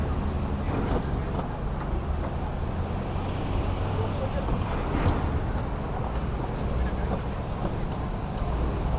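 Constant low roar of street traffic on Canal Street in New York City, an even, unbroken wash of engines and road noise at moderate distance.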